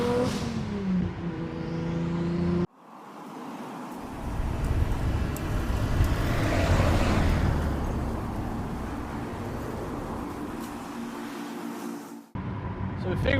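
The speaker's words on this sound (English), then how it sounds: "we're gonna make some turbo noises" A 1989 Toyota Supra MK3 turbo engine drives past, rising to a loud, roaring peak midway, then fading over about ten seconds. Brief talk and other sound are heard at the start and end.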